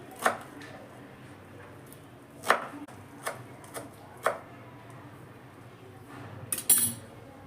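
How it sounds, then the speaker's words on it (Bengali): Knife finely chopping coriander leaves on a board during Bengali fish cooking, a few separate crisp cuts spread out with quiet gaps between them. "আমি ঝিরিঝিরি করে কেটে নিচ্ছি"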